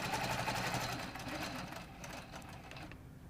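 Sewing machine stitching quilt layers along a ruler, a rapid even needle chatter that stays close and steady, then tapers slightly quieter toward the end.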